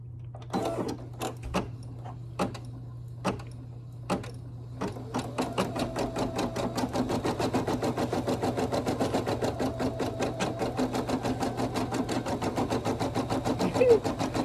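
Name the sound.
Brother PE800 embroidery machine stitching with black thread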